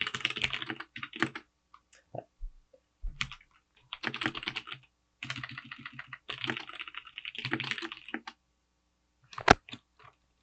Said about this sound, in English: I'll type one in the chat right now